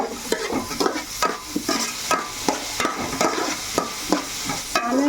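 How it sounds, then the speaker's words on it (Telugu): Onions frying in a pan for a mango fish curry, with repeated rhythmic stirring strokes scraping through a steady soft sizzle, close and without talk. "ఆనియన్స్ బాగా మగ్గాలి."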